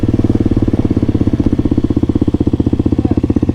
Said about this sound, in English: So Crf Mark's got an SSR 170 pit bike that he's saying kicks ass.